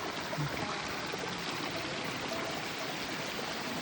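A strong mountain stream near Tungnath in Uttarakhand rushes across a hiking trail in a steady, dense roar of water, continuous and close, with no talking.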